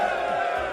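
A group shouting a short unison cheer led by Scotty Barnes, a brief burst of voices together, fairly faint.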